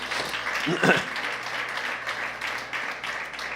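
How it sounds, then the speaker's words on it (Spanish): Church congregation applauding during a sermon, a steady wash of clapping with a brief voice or shout near the start, moderately distant and continuous throughout. "Dale un aplauso al Señor."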